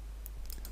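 Computer mouse clicks while working in video editing software, a few light, quiet clicks close by over low steady background hum, with no talking.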